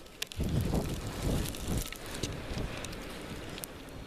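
Strong wind gusting through an outdoor snow blizzard, buffeting the microphone with loud low rumbles and rough noise, fairly close, no speech.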